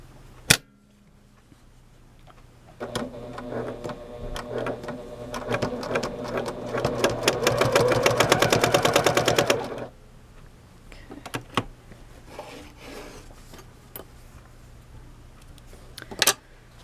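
A sewing machine stitches denim with stainless steel thread in a rapid even run of needle strokes lasting several seconds, framed by a few sharp clicks of the mechanism before and after; nobody speaks.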